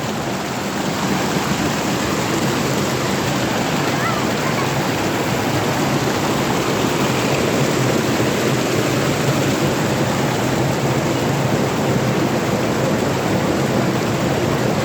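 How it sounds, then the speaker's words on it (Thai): Water from the Khlong Lan waterfall rushes steadily past a resort, a dense, continuous roar of flowing water holding constant loudness throughout with no pauses. "ที่รีสอร์ทบางวารี น้ำจากน้ำตกคลองลาน ไหลมา บรรยากาศดีครับผม"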